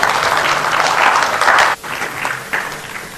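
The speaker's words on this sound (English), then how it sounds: "that deserves a round of applause." Applause from a political gathering in South Africa fills the air, a dense burst of clapping that breaks off sharply partway through, then returns in softer swells.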